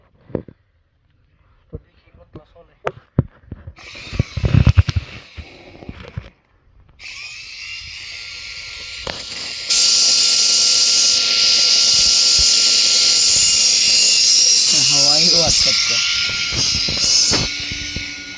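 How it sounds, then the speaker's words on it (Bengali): An electric motor from a rickshaw battery repair job winds up and spins at high speed, a sustained bright whine that swells in loudness partway through, preceded by scattered clicks and handling knocks, with someone talking over parts of it. "একটা মোটরও চালাই দিছি মানে এটা মারাত্মকভাবে ঘুরতেছে খুবই হাই স্পিডে ঘুরতেছে"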